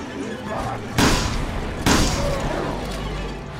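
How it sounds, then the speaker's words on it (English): Explosions in the video game Resident Evil Revelations 2: two sudden loud booms about a second apart, each a sharp burst with a short rumbling tail over a steady game background. "Well, this is a pathetic explosion."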